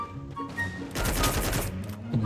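Burst of automatic gunfire in the mobile battle-royale game Free Fire, a dense rapid volley lasting about a second, loud and close, framed by quieter game ambience.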